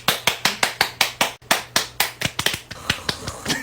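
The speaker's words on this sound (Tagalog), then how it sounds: "Pumalakpak tayo, dali." Hands clap in a quick, sharp series of about twenty close, loud claps, the rhythm speeding up partway through, with no talking.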